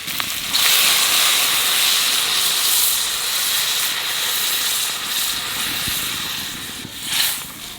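Water poured into a hot pan of fried cucumber bursts into a loud, steady steam hiss that holds for several seconds, swelling briefly near the end.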